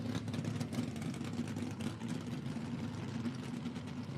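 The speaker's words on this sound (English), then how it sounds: "Listen to this screaming little highly modified small block as he is going to be pounding the gears." At an IHRA Outlaw Nitro Series drag race, a highly modified small-block engine growls steadily, a dense mechanical roar heard from a distance with no gear shifts standing out.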